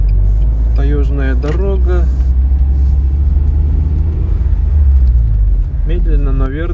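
A UAZ Patriot in low gear towing a trailer on a taiga road gives a loud, steady low engine rumble throughout, with someone talking over it.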